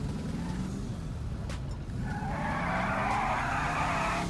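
Tires skidding and squealing on a Charger during a street race in GTA 5, a loud continuous screech over a steady engine roar, rising in pitch toward the end.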